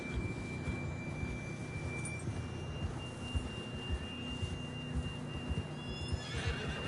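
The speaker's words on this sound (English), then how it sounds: "John was riding that horse when we left Blackwater" A horse whinnies in Red Dead Redemption 2 amid a steady bed of game sound effects, with a thin electronic tone and faint hoof clops in the background.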